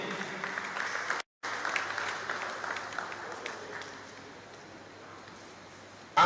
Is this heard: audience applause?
yes